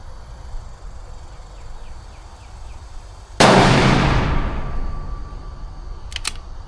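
A single loud rifle shot fired at a long-range target, a sudden sharp blast with a long fading rumble, over outdoor insect chirps, followed a few seconds later by faint clicks.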